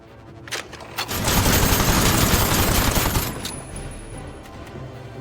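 Rear gunner machine gun fire in the video game Aether & Iron, a dense rapid burst lasting a couple of seconds, loud and close, then tapering off.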